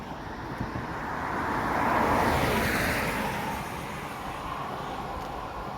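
Cars pass along a road on a cool day, a broad whoosh that swells to a peak around the middle and fades again over a steady low traffic rumble, heard from the roadside with no voices.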